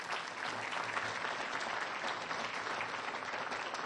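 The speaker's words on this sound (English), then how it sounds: "If we can give him a round of applause." An audience at a city crime statistics briefing claps for a departing council member, a fairly faint but continuous patter of many hands that stays even from start to finish.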